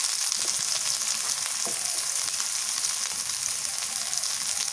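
Steady, loud sizzling hiss of cumin paste, onion paste and turmeric powder frying in hot oil, continuous throughout with faint stirring scrapes beneath.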